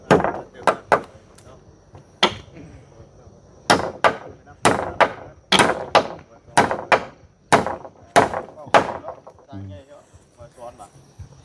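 Nails are hammered into wood while a new hut is built, with a string of sharp, loud, close strikes in irregular bursts and short pauses between them.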